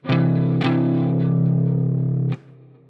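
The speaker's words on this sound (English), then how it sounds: "you can hear this sounds major with a major third" A distorted electric guitar rings out a sustained major-third chord with a chorus-like shimmer, struck again twice before it cuts off and a low hum lingers.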